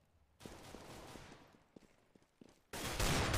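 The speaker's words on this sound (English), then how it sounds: "Doesn't land the headshot on Shiva though" Counter-Strike gunfire in a Tunisia vs Libya match at the 2015 World Championships African Qualifier: scattered shots over a noisy background, then a loud, dense burst of fire at the end.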